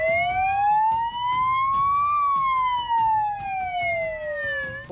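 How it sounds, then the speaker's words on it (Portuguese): A police siren wails in a slow rising and falling sweep, loud and steady near a street, with faint traffic and background noise underneath. "É possível ouvir as sirenes"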